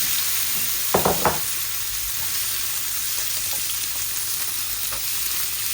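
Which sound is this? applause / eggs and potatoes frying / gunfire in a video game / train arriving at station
eggs and potatoes frying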